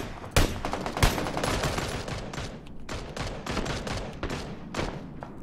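Rapid gunfire in PlayerUnknown's Battlegrounds, with dense, overlapping shots cracking close and loud almost nonstop, led by a few sharp louder reports near the start.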